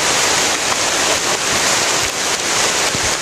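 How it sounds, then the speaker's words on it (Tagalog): Heavy rain pours down steadily in a dense, continuous roar, loud and close, with no breaks and no voices over it. "Sobrang lakas ng ulan."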